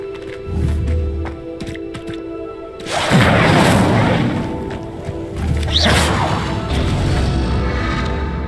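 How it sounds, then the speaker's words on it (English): A fire spell strikes a pyre in Hogwarts Legacy, bursting into a loud whooshing boom around the three-second mark, followed by rumbling crackle and a second swelling burst near six seconds. "Incendio! The flames make the pyre sink."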